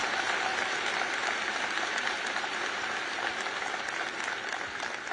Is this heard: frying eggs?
no